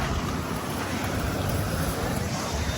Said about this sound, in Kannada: ಒಂಥರ ಗಾಳಿ ಬಿಡಕತ್ತದ